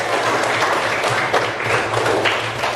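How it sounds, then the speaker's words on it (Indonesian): Students in a classroom clap together briefly, a busy close burst of hand claps with a faint murmur under it. "Tepuk tangan untuk semua."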